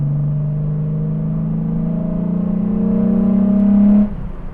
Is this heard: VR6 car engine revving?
yes